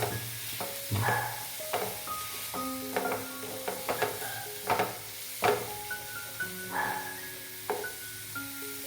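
A curry is stirred in a pan with a series of distinct scraping and clinking strokes of a spoon against metal over a soft simmering hiss, each stroke close and uneven in rhythm.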